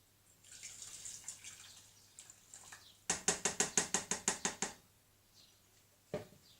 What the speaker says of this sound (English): Then I'm going to pour my water in.